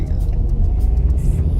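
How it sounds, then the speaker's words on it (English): A manual-transmission car's engine rumbling and revving loudly as the driver presses the gas, a continuous low drone filling the short moment without pauses. "make sure you give it gas"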